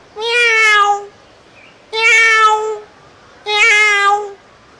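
A man imitates a cat, giving three loud, drawn-out meows about a second long each, separated by short silences.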